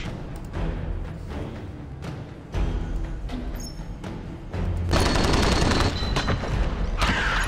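An assault cannon blazes away in Space Hulk Tactics, loud and nearby, as one sustained rattling barrage of heavy automatic fire with booming impacts that grows denser and more intense partway through.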